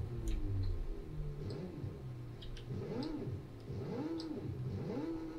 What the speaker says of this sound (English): Let's turn on the engine.